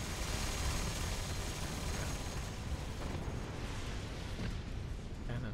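An enemy destroyer blowing up during a space battle in the strategy game Endless Space, a dense, sustained roar of explosive rumble filling the whole stretch at steady loudness.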